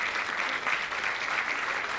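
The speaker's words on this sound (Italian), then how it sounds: "intanto ringraziandoli con un applauso di tutto il pubblico" Steady audience applause fills a traditional singing and improvised poetry show, a dense, even patter of clapping hands that holds at constant loudness throughout.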